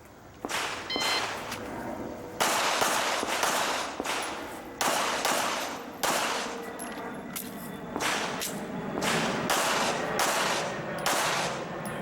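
Pistol shooters at an IDPA match fire a long, irregular string of sharp, loud gunshots with echoing tails. The shots come in quick clusters and continue steadily throughout.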